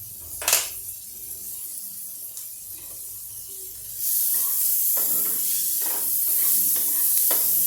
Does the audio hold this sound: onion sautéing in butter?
yes